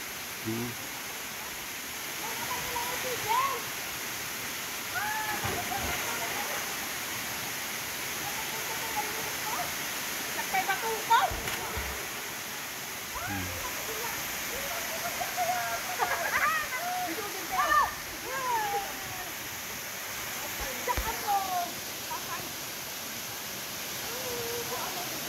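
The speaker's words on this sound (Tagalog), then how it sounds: "Sapa na ito." A clear stream flows below Dardarumaka waterfall in Pasuquin, Ilocos Norte, giving a steady close rush of water throughout, with people talking over it at intervals.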